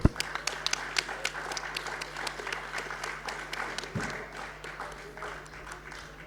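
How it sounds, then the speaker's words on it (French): Scattered applause from a small audience, individual claps audible in an uneven patter that continues steadily at moderate volume. "On applaudit"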